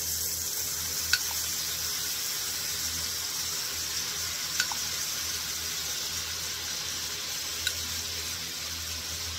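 Sauce for Japanese spam musubi simmers in a pan, a steady soft bubbling sizzle throughout, punctuated by three faint clicks or taps.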